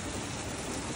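Rain falls during Hurricane Hilary, a dense, even hiss of steady downpour at moderate loudness with no pauses or voices.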